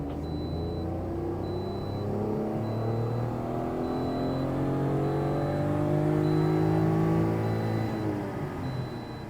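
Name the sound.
car engine revving to the rev limiter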